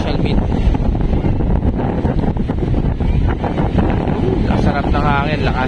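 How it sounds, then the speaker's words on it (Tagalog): Strong wind buffeting the microphone on Baler beach, a steady loud roar throughout with people talking over it. "Nasarap ng hangin, lakas."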